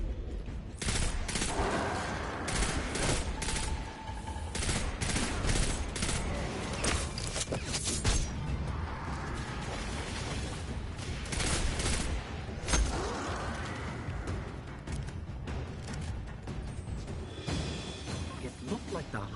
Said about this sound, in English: I'm just going to change back to the pulse rifle for now